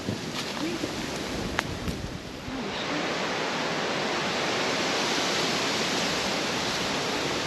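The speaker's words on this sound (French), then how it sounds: "on l'appellera la cascade sans nom." Waterfall in the Canal du Loup in the Alpes-Maritimes, a loud continuous roaring rush of falling water that grows fuller after a few seconds, with a few faint clicks at the start.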